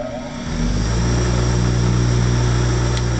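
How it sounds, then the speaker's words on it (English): A bench grinder spins up and runs steadily while shaping a lock pick guide, a loud continuous whirring hum with a grinding buzz throughout. "So back to the bench grinder."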